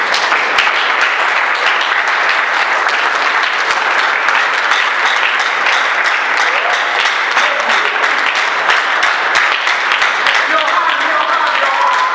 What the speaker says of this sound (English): with a standing ovation, with your hands put together, clapping